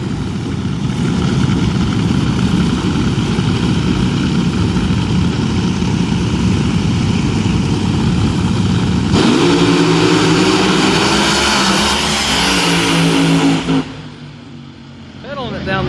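Nitro-burning nostalgia drag racing cars roar loudly down the strip, a dense sustained engine blast that swells and shifts pitch midway before cutting off near the end, with announcer commentary running underneath.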